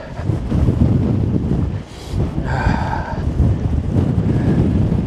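Heavy, roaring wind buffets the microphone in continuous strong gusts on an Appalachian Trail mountain top, with a brief lull and a faint whistling tone rising through the blast.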